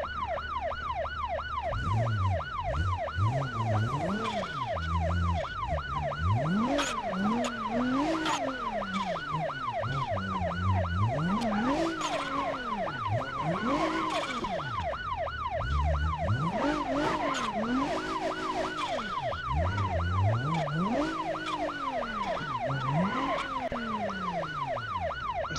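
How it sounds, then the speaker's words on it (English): A police car siren in the BeamNG video game wails continuously in a rising and falling cycle over a steady engine hum, loud and close throughout. "we're gonna shut off the siren"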